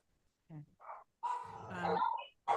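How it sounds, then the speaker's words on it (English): Dogs barking over a participant's open microphone during a fire district commission meeting held online. Several short, close barks come in quick bursts, then a longer run of yelping barks, slightly compressed as if through a call line. "Whoever has dogs barking, can you mute your audio, please?"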